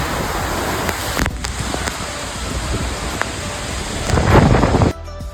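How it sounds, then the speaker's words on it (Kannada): Water roars at the Belkal Theertha waterfall, reached by a trek, in a loud, steady rushing wash heard up close that swells near the end and then cuts off abruptly. "ನೀರಿನ ಸೌಂಡ್ ಹ್ಯಾಂಗೆ ಕೆಂತ ಕಾಣಿ"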